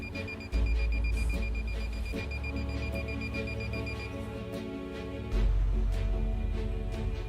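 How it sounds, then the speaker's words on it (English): A steady electronic beeping from a water detector repeats at even intervals over a low hum, with a constant faint tone underneath. "making an intermittent beep"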